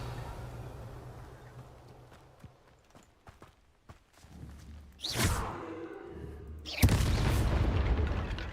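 A spell cast in Hogwarts Legacy lands as a sudden loud whoosh and burst, followed by a second, stronger surge over a low ambient rumble, with scattered footsteps before it.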